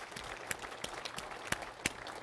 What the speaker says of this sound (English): Let's give Larry a good round of applause.